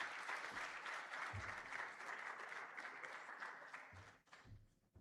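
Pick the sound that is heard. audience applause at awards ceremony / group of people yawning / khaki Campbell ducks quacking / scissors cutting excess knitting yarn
audience applause at awards ceremony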